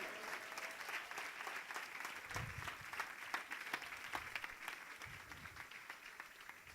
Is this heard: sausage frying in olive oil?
no